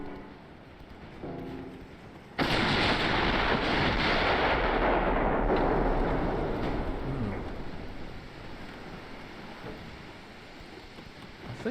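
Heavy naval guns thunder in a warship battle game, a dense broadband roar and rumble swelling abruptly and lingering for several seconds before slowly fading, loud and close.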